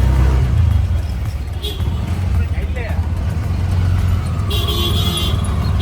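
Dense, steady road traffic in Bangladesh rumbles close by, with brief horn toots cutting through near the end and faint voices in the background.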